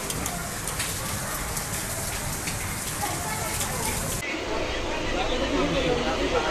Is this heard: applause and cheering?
no